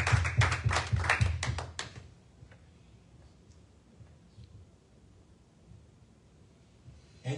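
A congregation at a Christian prophetic talk show gives a short burst of close, brisk hand clapping for the Holy Spirit, lasting about two seconds before fading into quiet room noise.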